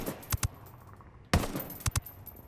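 Short bursts of ACAR assault rifle fire in Ghost Recon Wildlands: a few sharp cracks, a pause, then another cluster of loud shots with echo trailing off, close and without talk.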